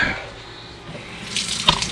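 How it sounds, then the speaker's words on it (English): Water runs from a sink faucet in a home in the Philippines as a newly installed sink is tested, a soft steady flow that swells louder toward the end, with one sharp clink or drip and no talk. "Oh, she's got the other sink going."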